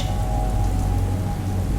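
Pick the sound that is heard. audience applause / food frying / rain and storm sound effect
rain and storm sound effect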